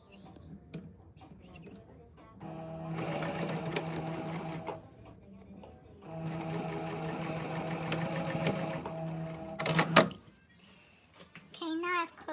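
A sewing machine stitching darts on a dress bodice, two sustained whirring runs of a few seconds each with pauses, small handling clicks and a brief squeaky sound near the end.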